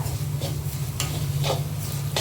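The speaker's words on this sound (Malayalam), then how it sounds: "പച്ചമണമൊക്കെ മാറുന്നിടം വരെ നന്നായിട്ട് ഇളക്കി എടുക്കുക." Pepper beef masala spice paste is stirred steadily in a hot pan, with a continuous soft sizzle and periodic scraping strokes of the spoon. No one talks.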